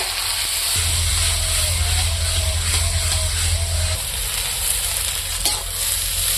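Potatoes fry in a pan with salt and turmeric for an egg mix curry, a loud close continuous sizzle with stirring and a low hum underneath, no voices.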